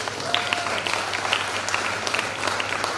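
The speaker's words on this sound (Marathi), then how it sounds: "सगळ्यांनी जोरदार टाळ्या वाजवायच्या." Audience at a government Ayurveda college event clapping in honour of a guest, a steady wash of applause from a large crowd, moderately loud and continuous.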